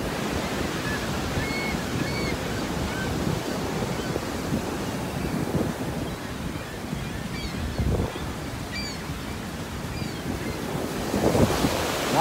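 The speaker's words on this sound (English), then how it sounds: "they built these steps right on the little waterfall" Rushing water at the Cave of the Winds beside Niagara Falls, a steady broad roar of a small waterfall close by, mixed with gusty wind buffeting the microphone for the whole stretch.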